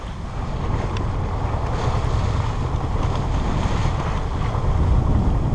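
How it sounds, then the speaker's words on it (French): Strong wind buffets steadily, a loud continuous rushing roar with water washing beneath, aboard a sailboat off Sardinia, no voices. "maintenant il y a 10 nœuds de vent, alors on n'avance presque plus"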